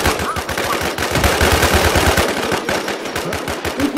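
Rapid automatic gunfire from the survival shooter Infestation, a loud, dense burst of shots firing continuously for several seconds, close and dominant, with faint voices underneath.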